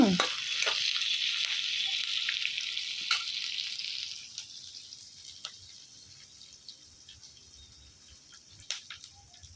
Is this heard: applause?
no